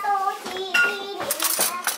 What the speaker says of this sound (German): Ich hole mal Besteck raus.